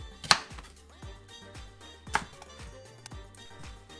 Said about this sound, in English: the only things you're going to chop is going to be a half onion, some garlic